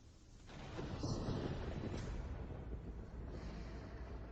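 Thunder in a dramatic fantasy scene, a heavy rumbling roar that swells and stays loud across the clip with a gritty, crackling texture and no speech over it.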